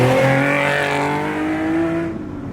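A Nissan 370Z Nismo with its muffler deleted drives past loud and close, engine revving with harmonic tones that climb steadily and then drop away near the end as it eases off.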